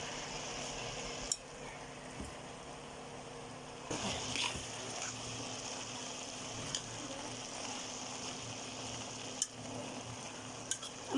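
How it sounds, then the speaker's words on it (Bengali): Cabbage cooking in a pan is stirred, giving a steady low sizzle with scattered scraping and clinking of a utensil against the pan and a few sharper knocks, with no talk. "একটু নাড়াচাড়া করি, একটু নাড়াচাড়া করে ঢেকে রাখবো।"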